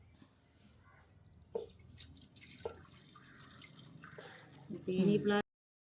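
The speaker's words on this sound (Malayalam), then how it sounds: "അപ്പോൾ നമുക്ക് ഈ എണ്ണ ഒഴിച്ചു കൊടുക്കാം" Cooking oil is poured into a pan for frying chips, with a steady dripping and gurgling that swells into a louder pour near the end before stopping abruptly. A voice talks over it.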